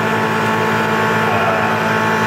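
A Tormach PCNC 1100 CNC mill face milling aluminum at 14 thou depth, 3200 RPM and about 35 inches per minute, making a steady, loud, continuous machining whine and hum with no talk.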